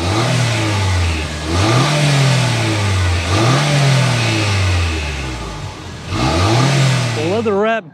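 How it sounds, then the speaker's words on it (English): A 2024 Toyota Grand Highlander Platinum SUV's turbocharged engine revs repeatedly, rising and falling in pitch several times with a deep, throaty exhaust rumble, loud and close. "start it up so you can hear that exhaust though"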